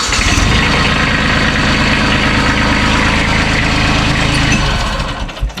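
A Kubota B7500 tractor that sat neglected for years starts up and settles into a loud, steady close-up idle, the engine note tapering off at the very end.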